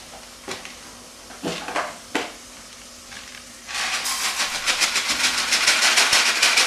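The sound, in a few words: stirring arborio rice into onion and oil in a pan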